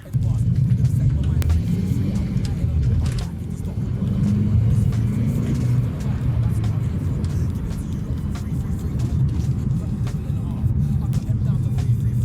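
A Mercedes C350 Sport Edition in comfort mode pulls away under acceleration, its engine giving a loud, continuous low rumble with road noise from inside the cabin, the pitch shifting slightly as it gains speed.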